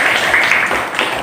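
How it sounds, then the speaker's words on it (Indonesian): Classmates in a classroom clapping together for a short, steady burst of applause that stays close and fairly loud throughout. "ya tepuk tangan temannya"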